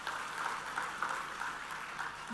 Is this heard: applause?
yes